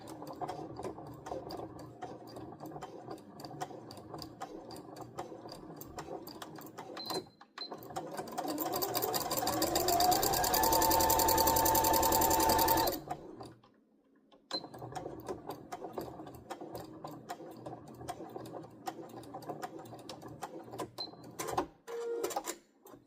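A sewing machine stitches a back tack on a fabric bowl cozy, starting after a pause with a rising whine and steady rapid needle chatter for several seconds, then stopping abruptly amid quiet handling noises.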